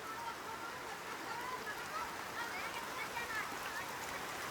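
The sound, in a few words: rain falling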